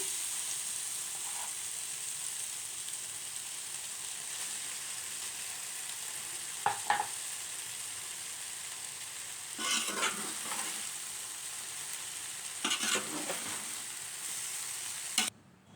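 Rice is added to gobi and fried in a pan, a soft steady sizzle broken by a few brief clattering bursts of stirring.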